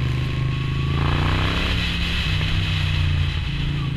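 Moto Guzzi V9 Roamer motorcycle fitted with an Agostini exhaust, a steady loud engine drone with a low throbbing exhaust note that holds close and continuous throughout.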